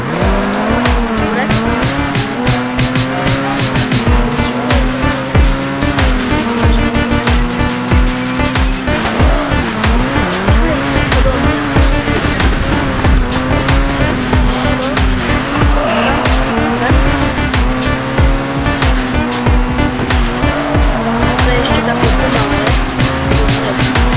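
Drift cars racing with continuous screeching tire squeal over a steady high engine drone, loud and unbroken throughout, with the pitch of the squeal wavering as the cars slide.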